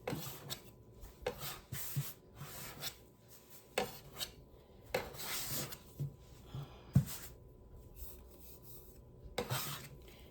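A bench scraper works whole wheat bread dough on a kitchen counter in a series of quick, irregular scraping rasps, each short and fairly close, with brief pauses between strokes.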